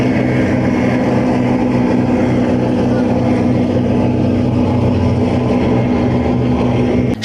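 Military river flotilla patrol boats run on a river, a loud, close, steady engine drone with a constant low hum and rushing water noise continuing without break.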